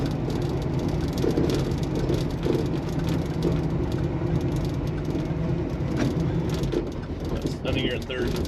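Big-block car with a four-speed manual gearbox rumbling along at low speed, with a steady engine drone and road noise while people talk inside the cabin.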